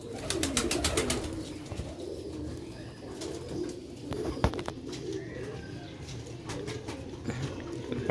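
Light-weight black-faced pigeons cooing in repeated soft, low throaty calls at close range, with a few sharp clicks and brief chirps mixed in and no speech.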